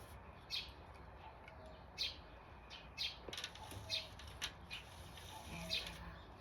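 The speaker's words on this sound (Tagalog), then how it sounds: "Biruin niyo ba yung tunog ng ibon, guys?" Birds chirping, short bright tweets repeating at irregular intervals over soft background hiss, faint and somewhat distant.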